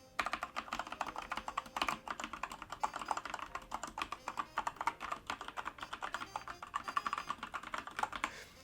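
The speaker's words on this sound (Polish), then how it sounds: "poklikałem Wam trochę, żebyście mogli jakoś tam ocenić, y, jak te kliki właśnie brzmią" Mechanical keyboard switches on a Sharkoon Skiller MECH SGK1 keyboard click rapidly and irregularly in bursts of typing, crisp and close, with no voices.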